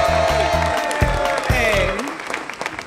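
A small audience claps for a quiz-show winner, a lively burst of scattered hands that fades toward the end, heard beneath music-like tonal sounds.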